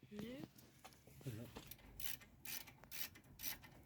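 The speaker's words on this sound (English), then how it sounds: "Undo the bolts on the back to remove the caliper." A socket wrench ratchet undoes the rear brake caliper bolts on a VW T5/T6 van, heard as several short, crisp bursts of clicking spaced about half a second apart in the second half, close by against a quiet workshop background.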